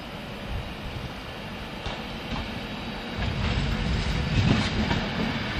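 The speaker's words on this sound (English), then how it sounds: "Off next is a 10:20, roughly 10:21 Manchester Piccadilly service via Wilmslow and Stockport" A Manchester Piccadilly service train pulls out of Crewe station, its rumble steady and then swelling slightly, with faint clickety-clack of wheels over rail joints.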